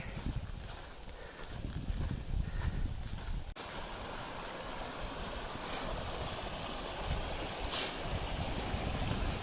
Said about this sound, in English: This is the Urito Creek or something like that.